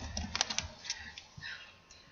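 A pet walks across a computer keyboard, producing faint, irregular clusters of soft key clicks and taps close to the microphone, with no voices.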